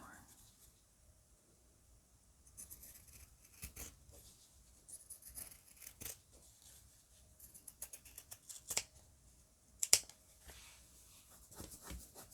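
Scissors cut paper for a junk journal cover in a quiet, close setting, giving scattered soft snips and crisp clips that grow busier midway, with one sharper snip near the end; faint soft speech is heard at times.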